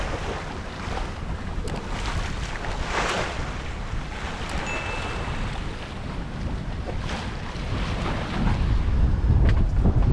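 Steady wind and water rush aboard a sailboat cruising between islands in a shallow clear bay, a constant broadband roar with wave splashes, growing slightly louder toward the end, no voices.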